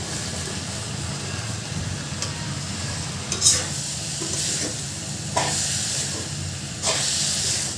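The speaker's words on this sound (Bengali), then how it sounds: "আমার ভাজি হয়ে গেছে। এখন ধনিয়া পাতা দিয়ে নামিয়ে ফেললেই হয়ে যাবে।" Onion, chili and vegetable bhaji frying in a pan, a continuous close sizzle and hiss with several scraping stirs of the spatula.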